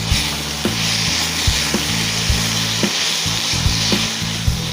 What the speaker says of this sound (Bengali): এবার এই মশলাটাও এতে দিয়ে দেবো দিয়ে ভালো করে মিশিয়ে দেবো